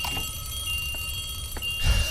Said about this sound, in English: You had to pull the fire alarm, Ka.